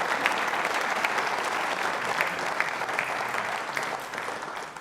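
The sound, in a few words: audience applause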